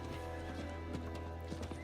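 Hoofbeats of a horse mount in Diablo IV clip-clop steadily at a trot, with a brief whinny, heard close over a continuous low game hum.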